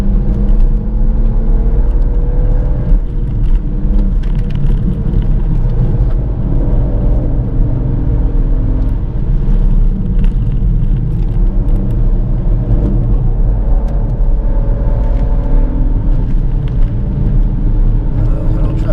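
BMW M140i with a Stage 1 tune accelerating hard around a corner at Bedford Autodrome, its engine droning loud and steady from inside the cabin for the whole stretch, with a driver talking over it.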